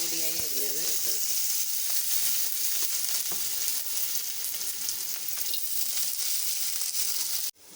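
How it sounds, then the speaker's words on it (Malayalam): Finely chopped onion sizzles and crackles steadily in hot oil in a pan, a loud close hiss with occasional stirring scrapes and no talking, cutting off abruptly at the end. "ചട്ടി ചൂടാകുമ്പോൾ കുറച്ച് ഓയിൽ ഒഴിച്ച് കൊടുക്കുക. സവാള പൊടിയായി അരിഞ്ഞത് ഇട്ട് കൊടുക്കുക."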